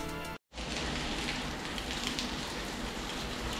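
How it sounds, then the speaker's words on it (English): Steady, dense hiss of rain falling on an Istanbul street, close and even after a brief cut near the start, with no voices. "it is actually raining quite a bit out here"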